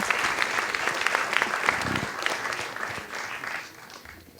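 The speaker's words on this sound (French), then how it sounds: "sous les applaudissements" Applause from an audience at a student graduates' awards ceremony, steady dense clapping filling the room for several seconds and fading slightly toward the end.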